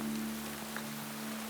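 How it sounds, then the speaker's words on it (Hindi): Continuous hiss of rain falling steadily, with a low steady hum underneath and a few faint drops standing out. "बारिश काफी तेज है।"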